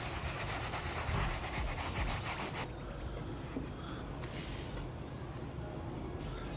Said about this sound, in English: to deep clean the midsoles, I will use the standard brush again, with a few drops of solution directly on the brush